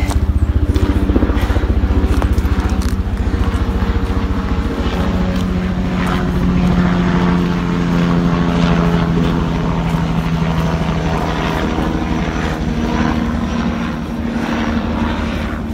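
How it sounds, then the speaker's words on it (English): A helicopter passes over a trail at Buescher State Park in Smithville, Texas, its engine and rotor drone steady and fairly loud throughout, holding a low hum that swells slightly midway with no one talking. "had to wait for the helicopter to get over"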